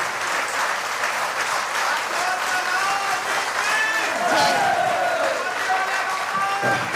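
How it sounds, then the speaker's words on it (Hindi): An audience at a religious discourse clapping together, a dense steady wash of applause from a crowd that holds through the whole stretch with a faint voice over it. "कोई खुराक है, तो है हाथ की ताली"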